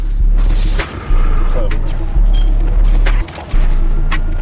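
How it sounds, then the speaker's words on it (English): Loud, dense video-game combat with heavy booming grenade blasts and gunfire, repeated thuds over continuous rumbling noise with brief drops in between, alongside someone talking. "Watch this grenade fly into his stinking mouth"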